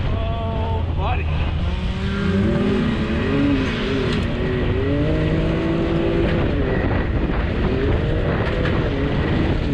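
Maverick XRC stock RC car doing a burnout, a loud, steady high-pitched motor whine with sliding tones that rise and fall under tire scrabble across the full length, with voices talking over it.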